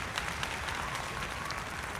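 A standing audience at a human rights ceremony applauds steadily, a dense, even wash of clapping held at a fairly low, distant level for the whole stretch.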